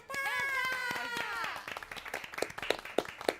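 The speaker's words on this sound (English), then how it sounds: "I don't know why I'm clapping." A streamer claps hands a handful of times, sharp close claps spaced irregularly, right after a stretch of music and voice at the start.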